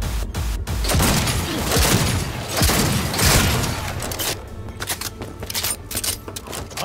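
Gunfire in the Cyberpunk 2077 video game, dense loud chaotic shooting and impacts mixed with rumbling booms, then a series of sharp separate shots near the end.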